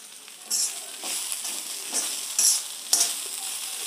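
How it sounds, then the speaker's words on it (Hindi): Chansur saag greens sizzle in a hot pan while a spoon stirs them, scraping in several distinct bursts over a low steady frying hiss. "बीच बीच में सब्जी को चलाते रहना है, जिससे सब्जी जलने ना पाए।"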